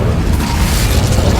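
Confringo blasting spell going off in Hogwarts Legacy, a loud, dense, rumbling burst that fills the whole moment with low-heavy booming noise and no pauses.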